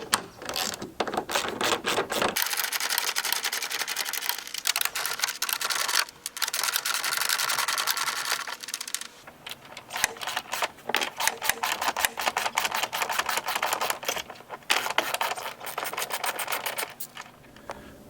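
A socket wrench with a 17mm socket ratchets off a cargo rack on a personal watercraft, giving rapid clicking bursts and metallic mechanism noise up close, broken by short pauses between runs.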